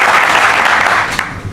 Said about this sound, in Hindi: इसके लिए वाकई जोरदार तालियां आपके